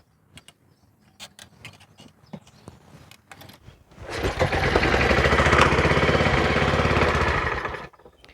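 A Troy-Bilt pressure washer's two-stroke engine is cranked with a few scattered pulls, then catches at about four seconds and runs loud and steady for roughly four seconds before cutting off.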